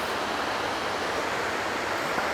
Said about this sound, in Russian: Метрах в 150 от меня водопад. Водопад красивый, я его услышал.